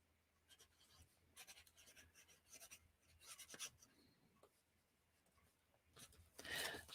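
Chalk marker scratching and rubbing across a journal page in short bursts of writing strokes, faint and close, with pauses between words and a louder rough rub near the end.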